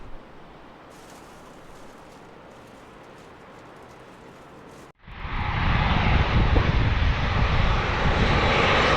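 An American Airlines airliner landing on runway 27 at San Diego, a low hum that suddenly gives way to a loud, sustained roar of jet engines close by.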